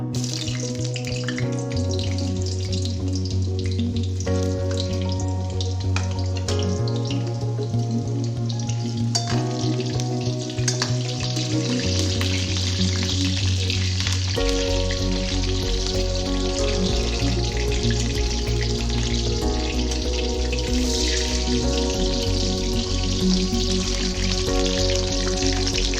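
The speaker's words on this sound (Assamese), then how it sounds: "এতিয়া আলুখিনি ফ্ৰাই কৰি ল'ম।" Potatoes fry in hot salted oil with a continuous steady sizzle and hiss that runs the whole time beneath sustained background music, with no talking.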